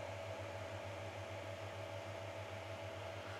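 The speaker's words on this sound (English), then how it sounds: "This was advertised to be quiet. I'm not sure if this is quiet for a 3D printer, but it's kind of loud." A 3D printer hums steadily while its bed heats. A fan whirs, a low motor tone pulses rhythmically, and the noise is fairly loud and close, with no one speaking.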